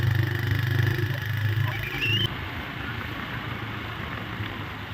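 A motorcycle engine runs at a steady idle, a low continuous hum close by, with a brief high whine before it settles into a quieter, rougher running sound.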